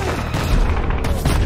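Lasguns fire in a Warhammer 40k Death Korps of Krieg animation, a brief, loud, dense barrage of rapid shots with booming low rumble underneath.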